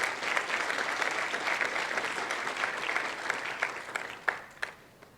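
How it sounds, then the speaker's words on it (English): Conference audience at an opening session applauding, steady dense clapping that swells and then thins out into scattered claps before fading. "a round of applause"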